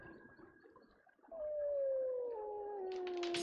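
A paper wolf howling in the game Tengami: one long, smooth howl that slowly glides downward, close and clear over a quiet ambient background, ending with a faint shimmer of chimes.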